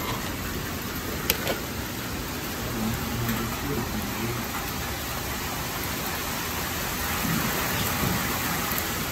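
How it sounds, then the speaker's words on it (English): Heavy rain pours down in a steady, dense hiss that holds without letup, with a faint low rumble underneath. "It's raining too hard."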